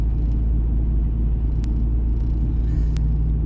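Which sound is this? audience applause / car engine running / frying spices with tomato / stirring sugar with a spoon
car engine running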